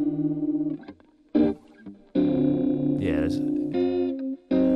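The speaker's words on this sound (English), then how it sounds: "because we're using stereo delay, again, we're getting more width to our sound" Electric guitar phrases mixed in Logic Pro with a distorted, effected tone and repeating stereo delay echoes spreading the notes wide, several short bursts and sustained chords.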